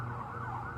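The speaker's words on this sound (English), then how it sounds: "Every time I sit here and do a video, fucking sirens in the city, they never stop." City emergency vehicle siren wailing steadily in the distance, a continuous rising and falling tone under traffic rumble, with no talking.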